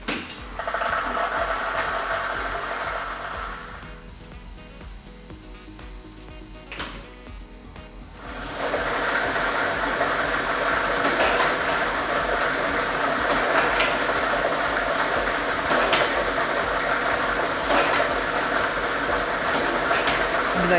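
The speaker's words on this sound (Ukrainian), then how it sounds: "Тиражна комісія обрала лототрон А комплект кульок номер 1 І ми вмикаємо лототрон" Lottery ball draw machine with ball set number 1 churning continuously for about twenty seconds, a loud, close rattling whir that dips briefly midway and then resumes at full strength with scattered clacks of tumbling balls.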